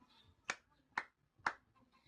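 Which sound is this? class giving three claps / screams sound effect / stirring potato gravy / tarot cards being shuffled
class giving three claps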